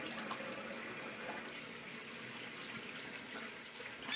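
A bathroom tap runs during a wet shave, giving a steady, close, moderately quiet stream of splashing water with no talk.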